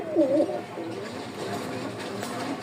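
A breeding pair of pigeons kept for sale gives close, soft cooing calls, with a clear burst at the start followed by quieter repeated coos over a faint background hum.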